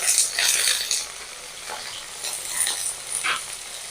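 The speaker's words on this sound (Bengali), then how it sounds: "আমি গ্যাস কমিয়ে ভেন্ডিটা ভালো করে ভেজে নেব" Okra frying in a pan with salt and turmeric over lowered gas, giving a steady broadband sizzle with soft stirring scrapes that swell and fade, no voices.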